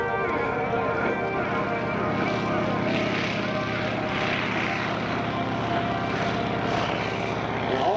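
A Stearman biplane's radial engine drones loud and steady on its takeoff roll at an airshow, a continuous propeller roar heard alongside a voice over the public address.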